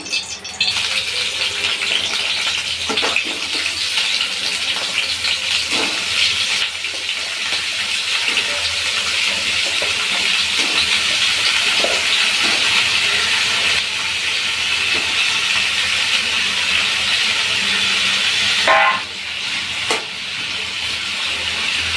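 Washed, cut bitter gourd pieces frying in a couple of spoons of oil in a pan, a steady loud hiss and sizzle running throughout with small clatters, with a brief dip near the end.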